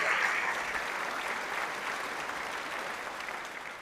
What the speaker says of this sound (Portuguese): Uma salva de palmas para eles, gente.